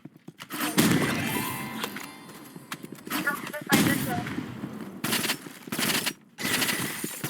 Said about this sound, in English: I just killed somebody with a small shotgun